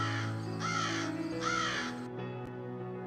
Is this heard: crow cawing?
yes